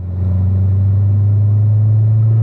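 A car engine drones steadily and loudly at sustained revs while driving hard through a race track turn over the curbs, a constant close in-car rumble with no break.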